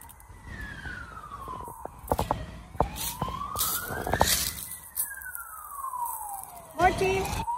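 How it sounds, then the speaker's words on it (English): An ambulance siren arrives at a traffic accident scene outside a factory, wailing loudly and sweeping up and down in pitch over several cycles while people talk and traffic noise bursts through in the background. "Right now there is an ambulance coming here."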